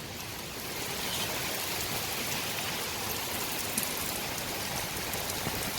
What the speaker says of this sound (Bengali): কি তেজ বৃষ্টি হচ্ছে